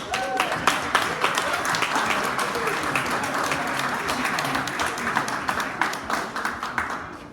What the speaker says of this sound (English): give me a round of applause for Gadget